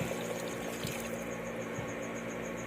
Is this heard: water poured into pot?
yes